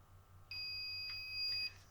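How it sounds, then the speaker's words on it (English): A single steady electronic beep from an ESS Dual Plus sound unit being calibrated in a TRX4 RC truck, about a second long, high and clear against a quiet background hum. "We get a beep."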